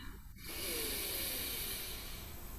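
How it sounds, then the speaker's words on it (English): A long, steady inhalation during a guided meditation, soft and continuous, heard close with no talking. "breathing in"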